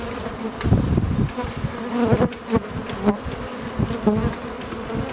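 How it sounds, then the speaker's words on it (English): Honeybees buzz around an open hive close by, a dense droning hum with individual bees swelling louder as they pass near. "bees that come out and cling onto the hive when you're inspecting them"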